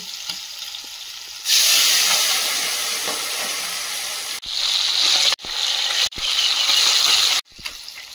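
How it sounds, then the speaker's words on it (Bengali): Small fish dropped into a hot wok burst into a loud, bright sizzle that cuts out briefly several times, as if the lid is lifted or the fish are turned, then resumes; no talk. "ছোট সাইজ গুলো এই কড়াইতে ভেজে নেব।"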